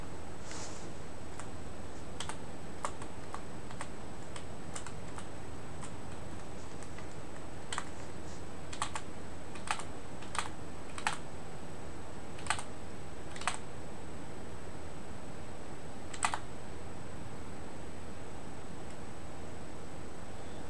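Typing on a computer keyboard produces scattered clicky keystrokes, single and in small bursts, over a steady hiss, with a few sharper key hits standing out, and no one speaking.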